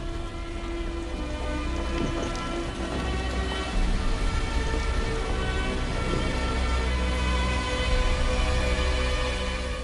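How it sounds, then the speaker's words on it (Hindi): Heavy rain pours steadily in a thunderstorm, with dense, close hiss and drumming throughout and low rumbles of thunder rolling underneath, no voices. "ये कैसा तूफान आया है?"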